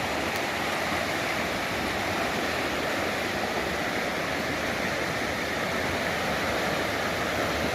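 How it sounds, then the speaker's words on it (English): Waterfalls pour over large rocks at several spots around a river island during high water, giving a steady, dense, broadband roar with no breaks or voices. "there's these awesome waterfalls that feed through here in multiple different spots"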